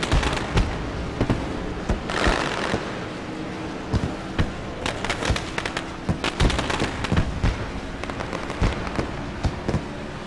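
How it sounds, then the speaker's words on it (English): Celebratory fireworks over the backstretch at Daytona International Speedway after a racing series shootout, a rapid run of sharp cracks and booming bursts in irregular clusters, fairly loud and sustained. "Beautiful display of fireworks."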